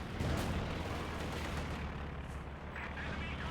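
A Katyusha rocket artillery barrage in the Company of Heroes 2 strategy game, a dense continuous roar of rocket launches and blasts under a commentator's talk, loud and unbroken.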